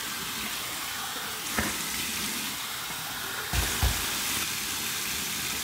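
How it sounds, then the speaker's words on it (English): Warm tap water runs steadily as a face is rinsed after a close shave, a continuous broadband hiss with a few brief splashing bumps midway and near the end, no talking. "here's my warm water rinse."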